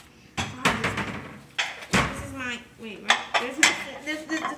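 Dishes, pots and pans clatter and clink in a home kitchen as hot food is served, with several sharp knocks and rattles in quick succession and people talking between them.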